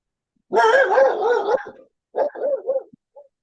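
A dog gives a drawn-out, wavering howl-like bark, then a few shorter yelping barks, close and clear against an otherwise silent indoor background.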